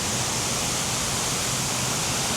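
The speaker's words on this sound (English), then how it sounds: "I just thought I'd show you the waterfall because it is really impressive" A large waterfall roars as a dense, unbroken wall of rushing water, loud and even throughout with no voices.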